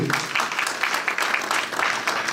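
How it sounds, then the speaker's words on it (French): A room full of people at a charity gala in Brussels clapping, steady and sustained applause at moderate volume with no break. "Je crois que ça mérite des applaudissements, non?"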